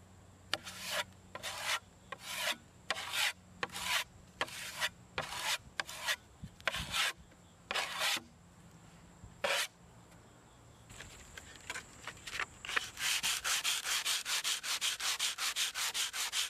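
A constructed surface is sanded smooth by hand in a steady series of back-and-forth strokes, close and fairly loud, before shifting into faster continuous rubbing toward the end.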